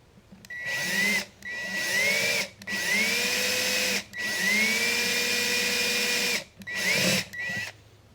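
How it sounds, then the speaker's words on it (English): Power drill bores through metal for jewelry piercing, a steady whining motor in several long bursts with short pauses between, pitch rising as each run spins up, close and loud. "I'm pretty much just letting the weight of the drill do the work for me"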